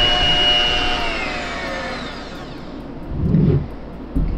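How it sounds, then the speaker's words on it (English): Electric mixer with a whisk attachment whirring steadily as it whisks milk and oil for waffle batter, a continuous motor whine that drops in pitch and then shifts slightly as the load changes. "The last of the wet ingredients is 1/2 cup of oil. Let's whisk all that together."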